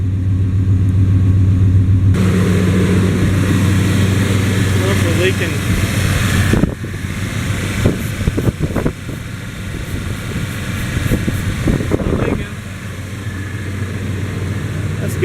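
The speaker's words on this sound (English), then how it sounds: "That's a good thing, it's idling." A Chevrolet TBI 305/350 V8 in a Sierra, Silverado or Caprice idles after its idle air control valve was cleaned, a low steady rumble up close that shifts and grows rougher as people talk over it.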